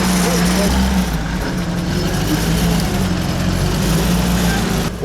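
A vehicle engine straining and revving while being towed up a mountain road in Tajikistan: a loud, continuous droning rumble with shifting pitch, holding steady throughout, with voices over it.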